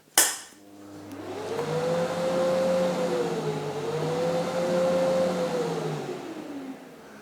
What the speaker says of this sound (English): You hear the extractor start up as this is drawing current as it gets itself ready for operation